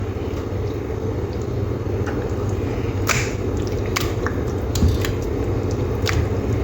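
Chicken pieces for tandoori chicken pressed and turned by hand in a thick masala coating, giving soft wet squishes and a few sharper slaps over a steady low background hum.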